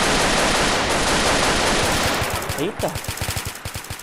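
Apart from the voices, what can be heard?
automatic G18 pistol firing in video game GTA multiplayer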